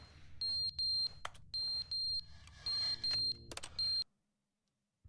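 A smoke alarm with a dead battery in a video game gives five or six loud, piercing beeps in short bursts at a steady pace, and then the sound cuts to near silence.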